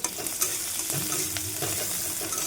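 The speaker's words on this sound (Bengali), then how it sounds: "রসুন দিয়ে দিচ্ছি ফোড়নে" Garlic sizzling in fish oil as the tempering for an aubergine dish, with a steady hiss, occasional stirring scrapes and a faint clink, close up with no talk.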